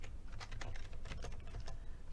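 Typing on a computer keyboard, a quick run of close, soft key taps over a low steady background hum.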